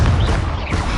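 Confringo blasting spell explosion in the Hogwarts Legacy video game, a loud, dense, rumbling boom filling the whole brief moment, close and heavy with low-end thunder.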